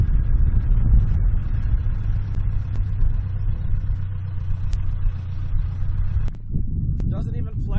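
A 15,000 lb Case backhoe being loaded onto a trailer hitched to a Ford Ranger, its diesel engine rumbling steadily at a low idle throughout, with a brief dip near the end and faint clanks over the drone.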